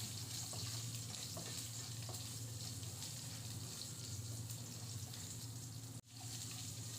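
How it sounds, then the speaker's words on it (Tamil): Onions and garlic sauté in oil with a continuous close sizzle and crackle. Scraping stir sounds come through, and there is a brief dip near the end. Nobody speaks. "வெங்காயத்தையும் பூண்டையும் எண்ணெயோடு சேர்த்து நல்லா வதக்கி விடுங்க"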